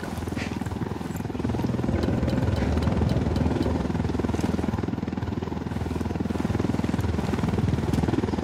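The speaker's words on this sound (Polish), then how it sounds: "Jeszcze tu gdzieś lata helikopter wroga" An enemy helicopter flies in Ghost Recon Wildlands, a steady loud rotor-and-engine drone that holds throughout, with faint game ambience around it.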